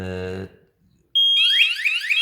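A sharp electronic alarm from a wireless water leak detector triggered by moisture starts after a short beep and a moment of silence, sounding a loud, rapidly repeating warbling tone close by.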